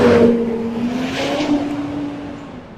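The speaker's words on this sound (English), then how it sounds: "there's a school bus going by" School bus driving past nearby, a loud engine drone with a steady low hum that swells close and then slowly fades as it moves away.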